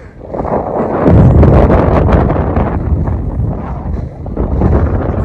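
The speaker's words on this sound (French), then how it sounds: "Je suis désolée, par contre, il y a du vent." Strong wind batters the microphone at the ocean shore near Cap Ferret, making loud, rough, gusting rumbles that swell and ease throughout.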